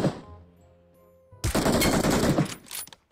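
Video game gunfire erupts after a quiet, low hum: a sudden loud burst of rapid automatic shots rattles for about a second, then a few shorter bursts trail off close by.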